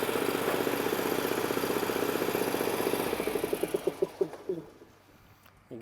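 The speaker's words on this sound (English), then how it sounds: "What the engine's actually doing is just keeping the big tank of air underneath the belly full of air" A diesel engine on a turf care machine, running to keep an underbelly air tank full, idles steadily with a throbbing rumble, then slows into distinct chugging beats and winds down before shutting off.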